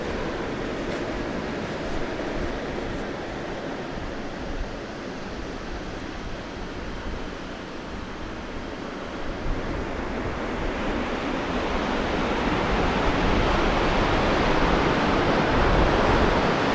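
Ocean surf at Black's Beach in San Diego makes a steady, broad roar of breaking waves that swells louder toward the end, with no one talking.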